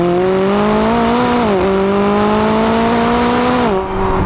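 A McLaren 570S supercar's engine drones loudly and steadily under acceleration, its pitch climbing, dipping briefly at a gear change, then climbing again before a final drop as the throttle eases.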